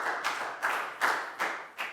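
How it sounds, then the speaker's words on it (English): A few people in a classroom clap in a slow, uneven rhythm, about five separate bursts of hand claps, close and moderately loud, with no voices. "Big round of applause for Pangpon,"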